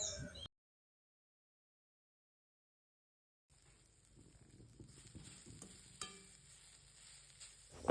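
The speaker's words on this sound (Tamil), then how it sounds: "தேங்காய் பூ நல்லா வறுக்கணும், ஈரத்தன்மை இல்லாமல் வறுத்து கொள்ளணும்." Grated coconut dry-roasted in a heavy pan, heard as a faint, scratchy rustle of stirring that starts after a stretch of silence, with a few sharper scrapes.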